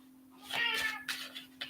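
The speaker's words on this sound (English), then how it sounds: "at least the cat says yes. The cat says yes." Domestic cat gives a clear meow followed by a couple of shorter chirping mews, fairly close against a steady low hum in a quiet room.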